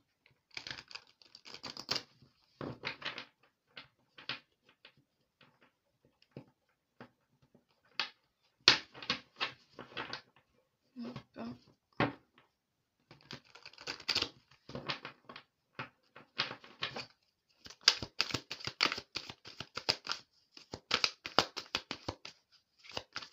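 Tarot cards being shuffled by hand, a long run of quiet, close, crisp riffling and slapping bursts broken by brief pauses.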